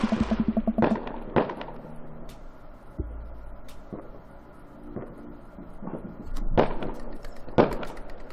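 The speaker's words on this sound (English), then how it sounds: "the first firework launches and explodes in the sky over the fair" Fireworks launching and bursting over a night fair in the game Dream Daddy, a few sharp pops and crackling bangs scattered across the stretch with quieter gaps between them, with no talking.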